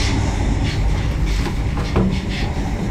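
Regional Explorer passenger train running, heard from inside the carriage as a steady, loud low rumble with faint rattles and clicks from the car throughout.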